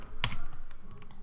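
Computer keyboard keys pressed during 3D modeling work, a few quick, fairly close clicks in a short burst, with faint room noise between them and no talking.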